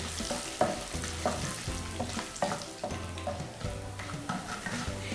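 Crushed black pepper is stirred through hot frying oil in a pan for a Kerala chicken stew, with steady sizzling under regular scraping stirs that repeat about every half second, close and fairly loud.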